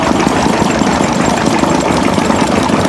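Old stationary diesel engines, including a Bessemer, run together at an engine show, giving a dense, loud, continuous chugging rumble with a steady knocking pulse and no voices.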